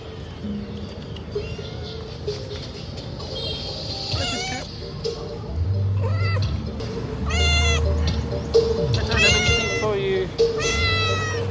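A street cat in Siem Reap, Cambodia meows repeatedly, several drawn-out rising calls close by, while a person talks and steady outdoor background noise runs beneath.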